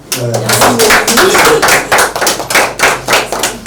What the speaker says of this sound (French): nous devons quand même applaudir, non?